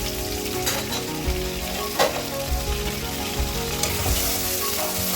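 Onion frying in oil in a wok, a steady loud sizzle throughout with occasional louder crackles and spatters, no voices.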